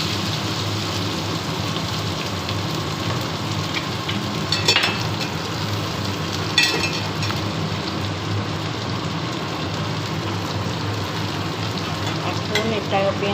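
Chopped onion frying in hot oil with cumin seeds, a dense continuous sizzle with a few louder crackles and spoon stirs, close and steady with no talk.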